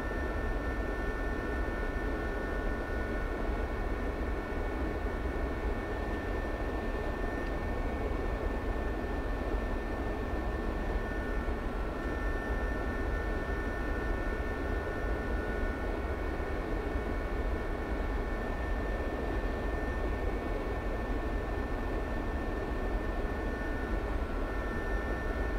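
A Gazelle helicopter flies at night in the DCS combat flight simulator, its turbine and rotor making a steady, unbroken drone with a faint high whine that stays constant throughout, with no talking.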